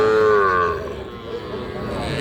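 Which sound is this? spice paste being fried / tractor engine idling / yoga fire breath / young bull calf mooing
young bull calf mooing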